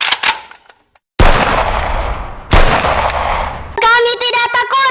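Gunfire sound effects in a children's drama rehearsal about Palestinian life: a brief burst of crackle, silence, then two loud sustained blasts of shots, ending in rising tonal synthetic sound.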